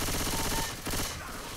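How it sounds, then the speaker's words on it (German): Rapid bursts of automatic gunfire in the zombie shooter game Left 4 Dead 2, fairly quiet and dense at first, then thinning out into a softer rattle with no voices over it. "Zur Hölle schießt du auf mich."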